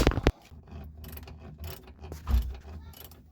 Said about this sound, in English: I'm unbolting the bolt that goes through the insulator on the top of the spring here